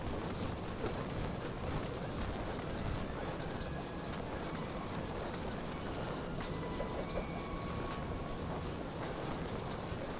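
A train rolls along in the video game Daxter, a dense, steady rumble with rapid clattering running the whole time at an even level.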